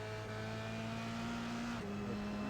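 Onboard race car engine in an SCCA Pro Formula Regional Americas esports race, a steady loud drone climbing in pitch with a quick gear change near the end, continuous and close with no talk.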